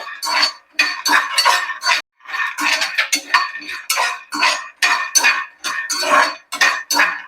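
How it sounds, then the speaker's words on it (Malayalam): Peanuts being stirred and roasted in a pan make repeated scraping, rattling bursts in an uneven rhythm, loud and close, with brief pauses between strokes and no talking. "അങ്ങനെ ഇളക്കി കൊടുത്ത് നമുക്ക് ഫ്രൈ ചെയ്യണം റോസ്റ്റ് ചെയ്യണം കപ്പലണ്ടി"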